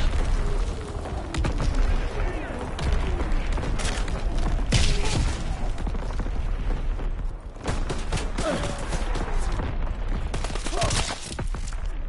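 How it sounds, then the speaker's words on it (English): Artillery strike explosions in a Call of Duty match, booming blasts and distant gunfire rolling through a dense, loud battlefield din with no letup. "Incoming enemy artillery!"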